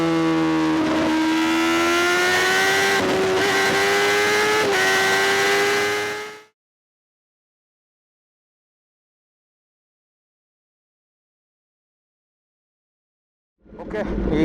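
Kawasaki ZX10R motorcycle with a stage 2 tune and Arrow full-system exhaust revs loud and close, its rising harmonic whine sharpened by brief throttle blips, then cuts to silence for several seconds before another burst of engine noise starts at the end.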